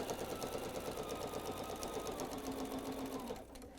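Close sewing machine stitching a jelly roll rug made from fabric strips, a fast steady mechanical whir with rhythmic needle clatter that runs continuously, then drops off and slows near the end.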